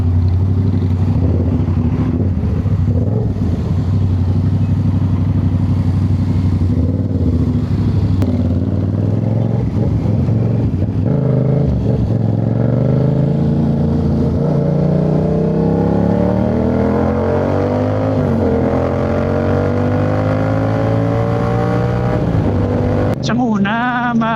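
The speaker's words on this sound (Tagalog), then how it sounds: "Buti hindi talaga ganun kaingay yung motor ko" A motorcycle engine drones steadily and loudly throughout, its pitch rising and falling with throttle changes, with wind and road noise mixed in.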